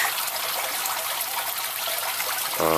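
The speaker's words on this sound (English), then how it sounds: "There's a spray bar up top, 1/2-inch PVC pipe with 1/16-inch holes drilled every inch" Water spraying from a half-inch PVC spray bar with small drilled holes into a koi fry tank, a continuous bright trickling hiss that runs steadily throughout.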